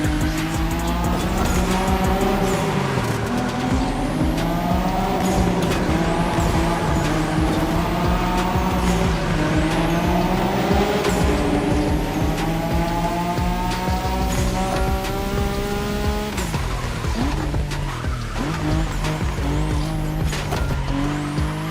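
A car drifts in The Crew Motorfest racing game, its engine roaring continuously with rising and falling revs while tires squeal in long, repeated skids, loud and steady throughout.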